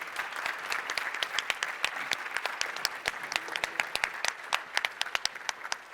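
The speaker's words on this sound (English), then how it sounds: "So if I could ask one more round of applause" An audience applauds at a ceremony, many hands clapping in a steady, dense patter that holds at moderate loudness, with a few sharper claps standing out toward the end.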